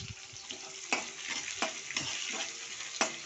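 Two cut onions frying in hot oil give a soft, steady sizzle, broken by several scraping stirs from a utensil against the pan; quiet and close, with no talking.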